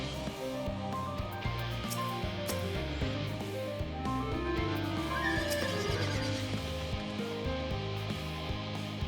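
A horse in Final Fantasy XIV: Endwalker neighs and whinnies repeatedly over steady clip-clop hooves and game music, loud and close, with no talking.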